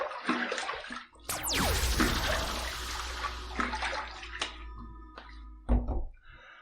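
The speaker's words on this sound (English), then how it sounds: "So let's wet the face and let's get to the shave." Water splashes at a sink as a face is wetted before a razor shave, with running water and repeated cupped splashes, a few thunks and a closing splash, near and moderately loud.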